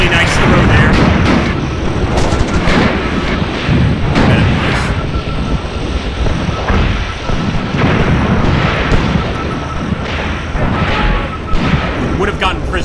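Battle noise in a World War II North Africa video game, with heavy booming blasts from a Mills bomb grenade and other explosions, rumbling and dense throughout, loud and close, with a voice talking over it.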